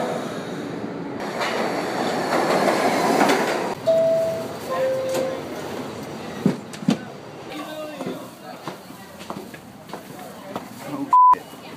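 A subway train nearing Lexington Avenue rumbles and rattles along the track, with brake squeals, clanks and a loud electronic beep near the end.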